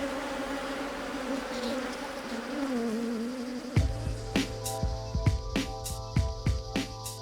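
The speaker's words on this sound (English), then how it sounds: "so Reed blocks off the bees' entrances to their hive" Killer bees swarm and buzz around a hive in a treehouse, a steady droning hum that turns louder and closer midway, with sharp scraping knocks and clatters from the hive work.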